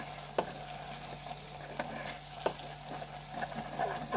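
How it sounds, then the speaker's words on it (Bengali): Bay leaves, garam masala and white cardamom frying in a pan, a soft steady sizzle with a few sharp clicks of a spoon stirring, close and fairly quiet, with no talking. "মশলাটা একটু ভেজে নিই"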